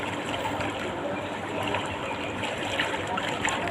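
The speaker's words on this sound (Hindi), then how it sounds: "कलकलाता पानी" Water babbles and trickles steadily, a continuous close-up flow with small splashy bursts throughout.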